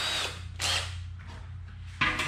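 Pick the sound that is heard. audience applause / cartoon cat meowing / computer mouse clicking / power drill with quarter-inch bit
power drill with quarter-inch bit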